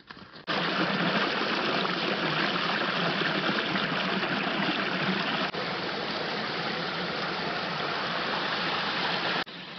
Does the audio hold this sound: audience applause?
no